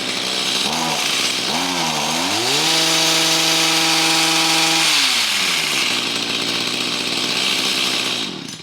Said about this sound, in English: Idle it down a little bit because the blades were kind of moving.